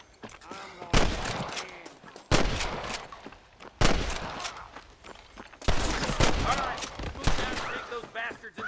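Rapid gunfire from a frontier shootout in the video game Red Dead Redemption: repeated loud bursts and volleys of shots, dense and overlapping, with shouting voices mixed in.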